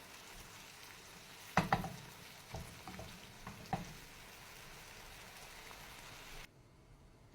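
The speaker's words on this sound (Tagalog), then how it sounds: "Ilagay po natin yung kamatis. Haluin natin. Imamash po natin." Chopped tomatoes for menemen are stirred and mashed in a pan, giving a low continuous sizzle and a few sharp scrapes and clatters of the utensil, then a quieter stretch at the end.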